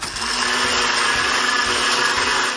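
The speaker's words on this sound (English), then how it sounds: "Here's a traditional blender." A traditional kitchen blender runs at full speed, giving a loud, steady, close motor whine with a harsh high-pitched roar throughout.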